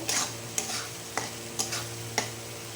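A spice paste of mustard and poppy seed for a pabda fish curry is stirred and sautéed with water in a pan: a soft, low sizzle broken by four or five distinct spoon scrapes and clinks, fairly quiet.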